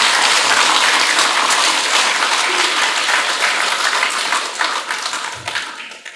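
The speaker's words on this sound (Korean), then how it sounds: "박수 한번 주세요" Audience applause at a Korean Buddhist dharma talk by the monk Haemin, a dense, loud wash of many hands clapping that holds steady, then thins and fades toward the end.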